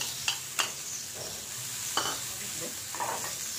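Fresh and dried coconut with cashews and raisins being sautéed in a pan, a soft steady sizzle broken by a few sharp clinks and scrapes of the spoon against the pan.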